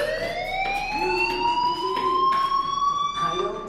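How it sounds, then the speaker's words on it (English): A fire alarm in the video game Life is Strange gives a steady electronic wail with a slowly gliding pitch, loud and continuous, while a voice speaks faintly under it. "Hey, do you hear that fire alarm?"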